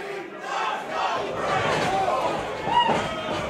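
A wrestling crowd at a Limitless Wrestling match between Chris Dickinson and Josh Briggs roars and chants in a dense, sustained swell, with a commentator talking over the noise.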